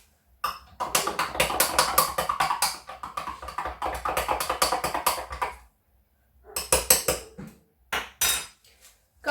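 Pizza dough with yeast being mixed in a bowl for homemade stuffed crust pizza, a dense run of close scraping, tapping clatter lasting several seconds, then a pause and a few shorter bursts of stirring.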